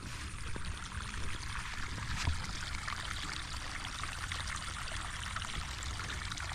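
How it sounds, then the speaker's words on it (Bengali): Rainwater runs off village fields in rural Bangladesh after a night of heavy rain, a steady broad rushing and trickling flow close by, continuous and unbroken throughout. "ক্ষেতগুলো থেকে বৃষ্টির পানি নামছে"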